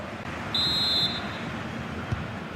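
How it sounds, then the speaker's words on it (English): A referee blows a single sustained whistle blast of about half a second to restart a football match for the second half, heard over a constant low crowd murmur and broadcast background. "The whistle sounds, and the second half gets going."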